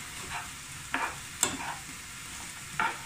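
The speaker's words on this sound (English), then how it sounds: "we're just going to gently mix all this in" Onions, carrots and green beans are gently mixed into cottage pie filling in a pan, with a few soft spoon scrapes and taps over a faint background sizzle.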